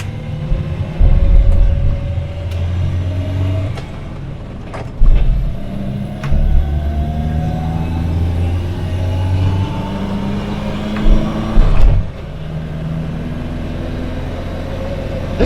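An Australian-assembled Peugeot 404 engine drones steadily from inside the cabin while driving, with low rumble and rising and falling revs, plus occasional knocks and bumps.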